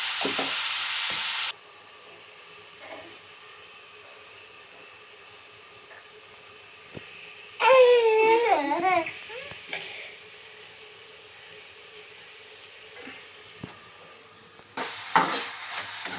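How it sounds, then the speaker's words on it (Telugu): Onions with salt fry in a pan for an egg and drumstick curry, a quiet steady sizzle broken by a few louder bursts of stirring and scraping partway through and near the end. "ఇప్పుడైతే మళ్ళీ కలుపుతున్నారు గైస్"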